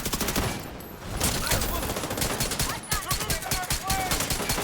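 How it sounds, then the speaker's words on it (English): Gunfire in the video game The Division 2, a dense, steady stream of rapid shots and bursts like a machine gun, loud and close throughout, under a faint voice. "Oh, I hear gunshots."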